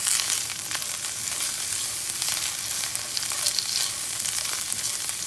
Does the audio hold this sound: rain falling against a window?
no